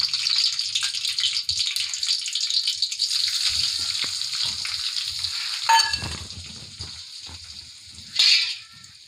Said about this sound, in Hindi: अब इसको हम मिला लेंगे ताकि इसका कच्चापन ख़त्म हो जाए